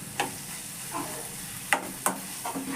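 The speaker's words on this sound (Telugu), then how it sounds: "అది కాక ఇలా కలబెడుతుంటేనే అది అనేది మంచిగా గుజ్జు గుజ్జుగా ఉడుకుతుంది" Amaranth leaf curry stirred in a pan, with a faint simmer and a handful of irregular scraping and tapping strokes of a spoon, close by and quiet, with no voices.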